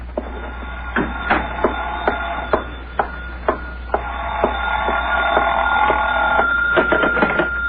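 A telephone ringing in a radio drama: a sustained electric bell trill with sharp repeated clicks, close and fairly loud over a low steady hum.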